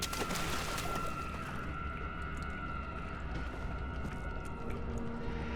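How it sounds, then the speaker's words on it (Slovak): Water monster lurking in flooded corridors in Amnesia: The Dark Descent, a dense low rumbling, churning water texture with a steady tonal drone, continuous and moderately loud with no talking. "Vodná príšera."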